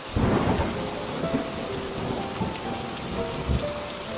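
Steady heavy rain patters on surfaces throughout, with low rumbles of thunder rolling underneath at a few points, no voices.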